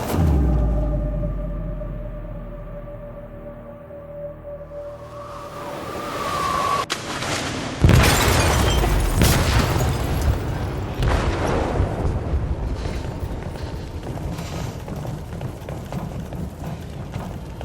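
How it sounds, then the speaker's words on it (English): An explosive goes off in a ship's hold in Detroit: Become Human. A sudden loud boom bursts out of quieter ambience partway through and is followed by a long, rumbling roar of noise. "They detonated an explosive in the hold."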